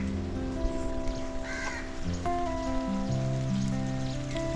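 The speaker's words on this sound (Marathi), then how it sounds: "मस्तच पाऊस पडला आहे बघा" Heavy monsoon rain in Konkan makes a constant wash of noise, with crows cawing nearby and other bird calls sounding over it.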